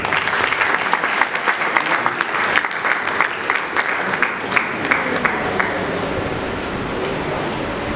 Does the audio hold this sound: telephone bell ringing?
no